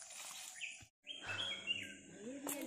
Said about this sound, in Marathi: आवाज बघ कोकिळाचा किती सुंदर येतोय,